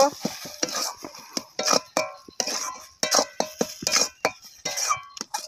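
A utensil stirs a mash of beans, potato and tomato with spices and mustard oil, making repeated scraping clinks against the pan in an uneven rhythm, close and moderately loud, with no voices.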